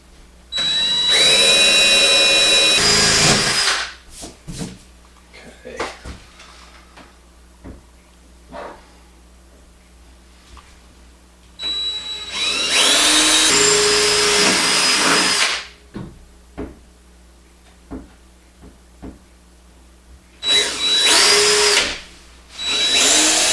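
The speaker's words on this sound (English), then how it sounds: "drill the holes out real quick" A power drill bores mounting holes for a Kohler HydroRail shower column, three loud whirring bursts separated by quieter pauses with small clicks and handling knocks.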